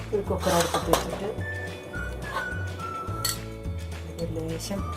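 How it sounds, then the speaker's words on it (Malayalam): A pressure cooker is set down on a stove, with clinking metal contact and light kitchenware clatter close by, heard under a steady stretch of talking. "ഒരു കുക്കർ അടുപ്പത്ത് വെച്ചിട്ട്"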